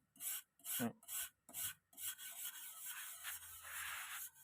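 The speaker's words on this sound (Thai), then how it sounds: "ผมได้เจอแปรงทองเหลืองมาขัด ก็รู้สึกดีครับมันรู้สึกว่ามันออก" A brass wire brush scrubs rust with rough, rasping strokes, five distinct loud passes followed by continuous, steadier scrubbing, close up and with no talking.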